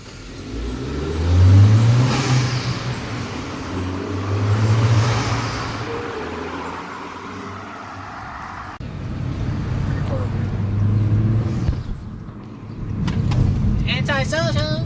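Loud modified exhaust on a turbo Honda Accord or Civic revving and roaring past in a few surges, with people talking in between and rumbling exhaust fading in and out.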